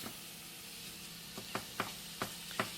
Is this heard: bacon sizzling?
yes